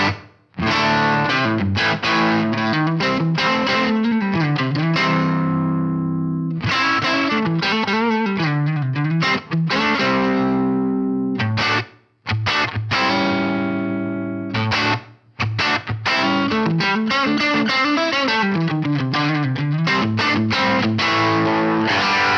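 Distorted electric guitar through a Tsakalis AudioWorks Multicab 4 cab simulator with added room ambience plays chords and riffs with a roomy, slightly reverberant tone, continuous and loud with only brief pauses.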